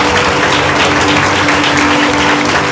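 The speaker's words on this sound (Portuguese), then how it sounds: "aplaudindo o Senhor missões." Congregation in an Assembleia de Deus church applauding, a loud, dense, continuous wash of clapping that fills the room evenly from start to finish.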